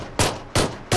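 Three sharp pistol shots in PUBG, evenly spaced and close, each a loud crack with a short decaying tail.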